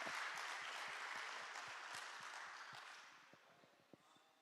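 Church congregation applauding during a worship service, a dense wash of clapping that fades gradually over a few seconds, with a few scattered claps at the end.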